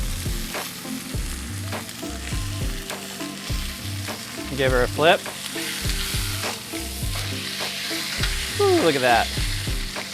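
Flank steak sizzles steadily in a hot pan with melted butter, a loud, continuous crackling fry with brief scraping and stirring as the meat is flipped, and a short spoken remark over it.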